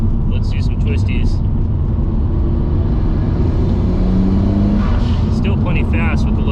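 A 500 hp Nissan Skyline GTR accelerates on a street at low boost, a loud continuous engine roar with rising pitch, heard from inside with someone talking over it.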